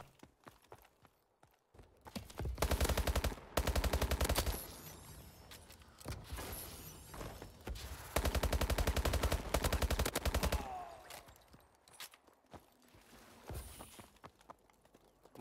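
SN6 submachine gun fired in a video game, two long sustained bursts of rapid automatic fire with quieter footsteps and movement sounds between them.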